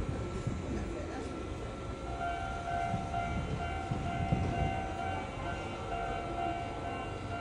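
Inside or beside the Tama cat-themed train at a small rural Japanese station, a steady rail rumble and hum carries on throughout, with faint voices now and then.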